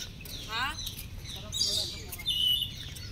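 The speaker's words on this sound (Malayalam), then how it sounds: "ഇവിടുന്ന് അങ്ങോട്ടൊക്കെ ഫുൾ തത്തകളാണ്, വെറൈറ്റി തരം തത്തകൾ." Parrots in a nature park in Gujarat give several shrill chirps and squawks at moderate distance over steady outdoor background noise, with a few louder bursts of calling.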